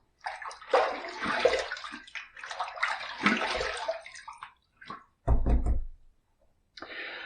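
Tap water runs into a sink to rinse after a shaving pass, a loud splashing gush in two long stretches, then a few knocks and thuds before a short final burst of water.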